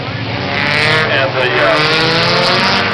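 Hornet class race cars run at Princeton Speedway, a loud, dense engine roar at close range with layered revving and harsh buzzing that carries on without a break.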